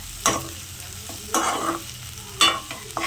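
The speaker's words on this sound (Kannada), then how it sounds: "ಸೋಂಪು ಚಕ್ಕೆ ಲವಂಗ ಏಲಕ್ಕಿ ಇದನ್ನು ಕೂಡ ಇದಕ್ಕೆ ಹಾಕಿ ಫ್ರೈ ಮಾಡ್ಕೊಳ್ಳೋಣ ಚೆನ್ನಾಗಿ ಫ್ರೈ ಆಗಲಿ" Whole spices sizzle and fry in a pan with onion for a chicken gravy: fennel, cinnamon, cloves and cardamom. Sharp stirring scrapes come in short bursts over the steady crackle.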